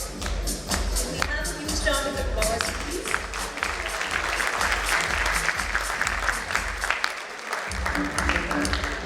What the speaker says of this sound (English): We have a huge round of applause, please.